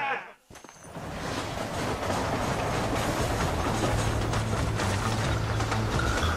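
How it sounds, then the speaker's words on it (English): Steady rumble and clatter of a train rolling along the tracks in the Red Dead Redemption video game, loud and continuous after a brief dip, with a low drone underneath. "Hurry! The train is getting away!"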